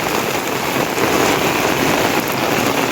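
Heavy cloudburst rain pours down in Manegaon, Madha taluka, a loud, dense, unbroken hiss of downpour beating on surfaces, with no voices.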